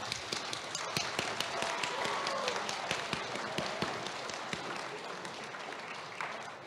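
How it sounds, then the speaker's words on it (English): Ceremony audience applauding at an awards event, a steady wash of many hands clapping at moderate distance with individual sharp claps standing out, fading slightly toward the end. "Big applause to everybody"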